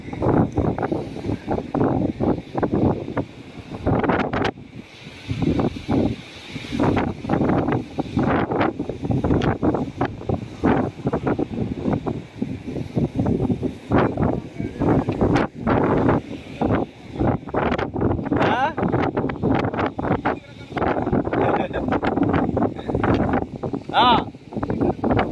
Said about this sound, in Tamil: காத்து ஓவர்.